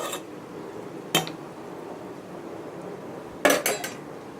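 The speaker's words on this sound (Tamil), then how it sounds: "இப்போ பார்த்திங்கன்னா இந்த மாதிரி நான் பழைய தோசைக்கல் எடுத்து அடியில் வச்சுருக்கேன் தம் போடுறதுக்கு." Heavy old cast-iron dosa griddle set down on a stovetop beneath a chicken biryani pot, giving one sharp metallic clank, then a cluster of rattling clanks a couple of seconds later over low kitchen hiss.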